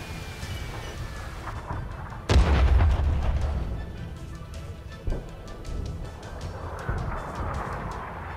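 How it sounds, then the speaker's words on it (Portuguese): Artillery fire in the tank battle game World of Tanks: one powerful, close boom with a deep rolling rumble stands out over battlefield noise, followed by a few smaller distant thuds. "Artilharia também tá pegando o cara aqui"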